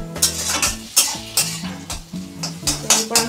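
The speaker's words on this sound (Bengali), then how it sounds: "এদিকেও আমার সবজিগুলো ভাজা ভাজা হয়ে গেছে" Vegetables for Hakka egg chowmein fry and are stirred in a pan, with a steady sizzle under repeated loud scraping and clinking of a metal spatula, close up.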